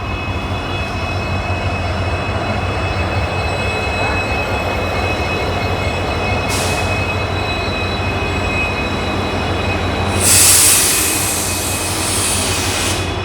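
Panchaganga Express rolling past on the adjacent track while the observer's train waits on a loop line, a loud steady rumble of wheels and coaches with a brief sharp screech near the end.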